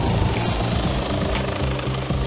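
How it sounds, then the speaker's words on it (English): Police helicopter overhead, a loud steady rotor thump with a regular chopping pulse and engine whine, close and continuous with no talk. "a second helicopter is already being scrambled"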